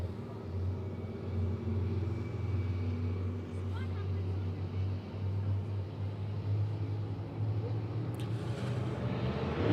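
Race cars circle Monett Motor Speedway under green-flag racing, their engines a distant, continuous low rumble that swells and fades slightly, with a voice talking over it.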